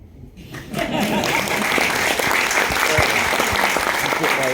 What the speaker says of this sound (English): Thank you very much for that unprompted round of applause.